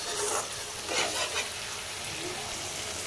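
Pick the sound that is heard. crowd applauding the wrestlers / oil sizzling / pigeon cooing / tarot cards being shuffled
oil sizzling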